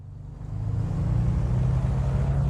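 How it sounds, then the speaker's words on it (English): Mooney M20 piston engine in Microsoft Flight Simulator 2024, rain setting, revving up from a lower idle into a steady, loud, throbbing drone within the first second, then holding a constant deep hum. "Just like a real Mooney, the engine takes a moment to kind of catch up to."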